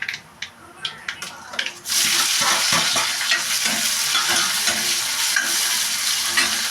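Onion and garlic hit hot oil with mustard seeds, a few sharp pops and clatters giving way to a loud, sustained close-up sizzle with intermittent stirring.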